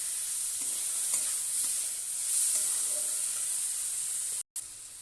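Cashew nuts fry in a hot pan with tomato for paneer butter masala, giving a loud, steady, close hiss and sizzle with faint stirring, broken by a brief drop-out near the end.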